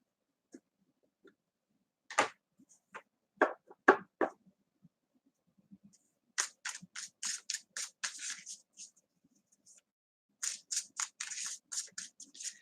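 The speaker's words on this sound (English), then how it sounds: "these cards are really, really nice to shuffle too" Tarot cards from a zombie-themed deck are shuffled up close in a quiet room, with sharp riffling clicks and snaps arriving in irregular bursts separated by silent pauses.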